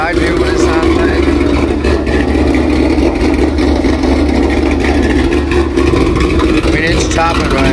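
A Ford Mustang 5.0 with a Lund ghost cam tune idles with a loud, steady, choppy exhaust rumble heard from the side, continuous throughout, close to the car.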